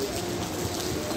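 Heavy rain falling at Masjidil Haram, a steady hiss of water pouring down and splashing, continuous and moderately loud with no voices.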